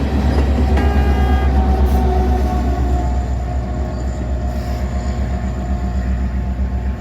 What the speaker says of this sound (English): Norfolk Southern. One green. All right, here comes a train.